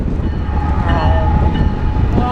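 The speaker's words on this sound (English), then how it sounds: "Oh my gosh, there goes the train." Train rolling past close by, a loud, steady low rumble of wheels and cars with a faint tonal ring over it.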